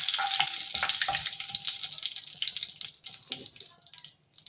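Curry leaves dropped into hot oil for a taro and coriander curry give a loud, crackling sizzle that bursts at the start and gradually fades over a few seconds.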